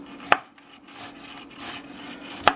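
A knife chops into food on a wooden cutting board for a sweet and hot pork stir fry, giving two sharp, separate knocks about two seconds apart over a quiet, soft scraping background.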